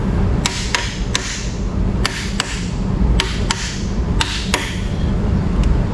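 A hammer taps parts on a Dodge Charger engine during a camshaft job, giving sharp metallic strikes in irregular pairs and singles, close and loud, over a steady low background hum.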